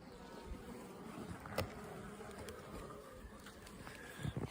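Honeybees buzz steadily around hive colonies in spring, a dense, continuous insect drone close by with a brief louder pass near the middle and another toward the end.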